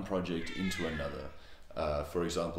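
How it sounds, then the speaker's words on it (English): A cat meows in the background, several short cries mixed under a man's close, continuous talking. "apologies for the cat in the background"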